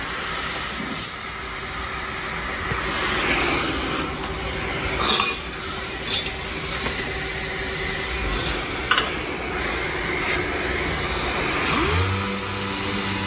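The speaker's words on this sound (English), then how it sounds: "Now I'll use a bit of 80 on the DA." Dual-action sander fitted with 80 grit abrading a car bumper, a continuous hissing, whirring scrub that runs steadily with small surges, ending as the motor winds down.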